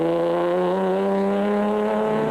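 A Barker Performance Products Land Rover rally car racing at the 2003 Sugarbelt 400, steady loud engine drone with a slowly rising pitch as it accelerates, close by with no voices.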